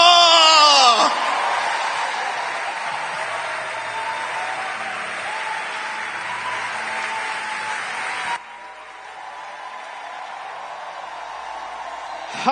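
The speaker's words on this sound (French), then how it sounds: "Sous vos acclamations" A church congregation bursts into loud, sustained applause mixed with cheers and whoops at an evangelical service, a dense wash of clapping that carries on steadily for several seconds before dropping to a quieter tail.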